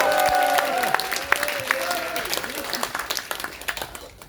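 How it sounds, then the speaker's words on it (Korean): An audience at a Korean political party launch event applauds, a dense burst of clapping under an announcer's voice and cheers, gradually thinning out toward the end. "여러분 박수 한번 보내주시기 바랍니다."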